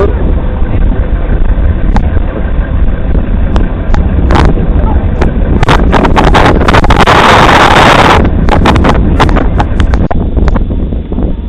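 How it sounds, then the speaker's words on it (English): An old tube boat's engine passes nearby, a loud continuous rumble buffeted by heavy wind on the microphone, with scattered clicks and a brief burst of hiss midway, while people talk over it. "On his old tube boat."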